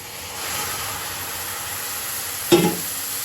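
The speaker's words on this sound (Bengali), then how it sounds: "ক্যারামেল এখন আমি দুধটা দিয়ে দিচ্ছি" Milk poured into hot caramel in a pan for pitha, a soft steady hiss throughout that swells into a short, sharper sizzle near the end, close by and without talk.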